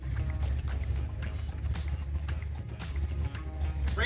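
A 1962 Ford F100 truck engine idles roughly and barely keeps running, a steady low rumble that holds throughout with slight unevenness and rises a little at the end.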